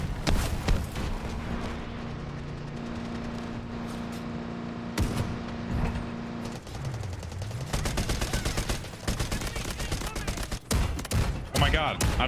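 Dense, sustained gunfire from a Delta Force match: rapid bursts and fusillades, loud and continuous, with explosions and battlefield noise mixed in and people talking over the shooting.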